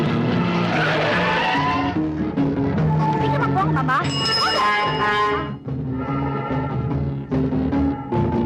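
A car skids with squealing tyres as it swings around in a chase, loud and close, over engine noise and music, with people shouting over it.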